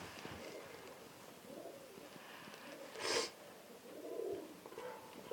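Pigeons coo nearby in soft, repeated rolling calls beside a small snowy campfire, with a brief louder rustle partway through and no talk.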